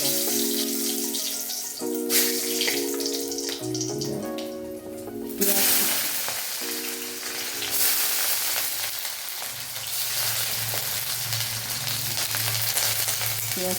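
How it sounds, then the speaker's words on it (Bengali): Nigella seeds and dried red chilli sizzle in hot oil in a kadai for a jute-leaf curry, a continuous bright hiss with a musical tune playing underneath. "কালো জিরে শুকনো লঙ্কা ফোড়ন দিলাম"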